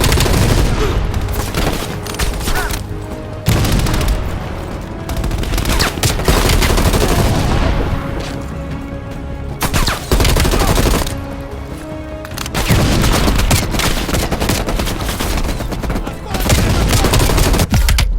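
Machine gun fire in Call of Duty: Black Ops Cold War, loud and close, with long sustained bursts and dense rapid shots broken by short pauses, plus booms and battle noise and no speech over it.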